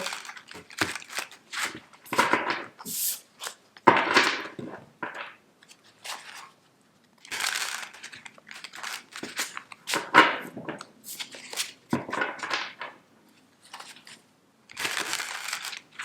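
Tarot cards being shuffled by hand, irregular bursts of crisp riffling and papery slaps separated by short pauses, close and fairly quiet, with no talking.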